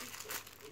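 Gift wrapping paper crinkles briefly up close, a soft rustling scrunch under a quiet room.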